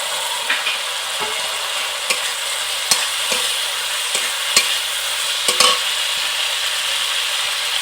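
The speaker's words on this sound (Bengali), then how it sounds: "ভালো করে মিশিয়ে নেব। ভেজে রাখা মাছ দিয়ে দেবো," Fried small mourala pond fish are mixed into a sizzling spice and tamarind mixture in a pan, a loud, steady frying hiss broken by regular sharp stirring clicks.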